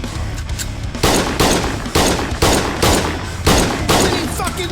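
Loud gunfire in the video game Schedule 1 rings out as about six heavy shots spaced roughly half a second to a second apart, each with a booming tail, close and dominant.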